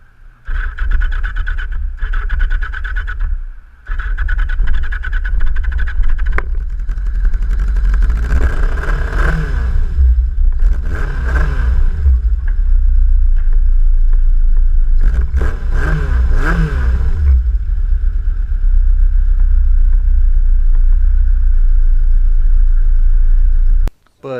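A Yamaha XS1100 motorcycle engine runs loud and close at a steady idle, with several rising revs in the middle and a brief drop early on before it shuts off at the end.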